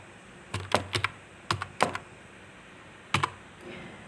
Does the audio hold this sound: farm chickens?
no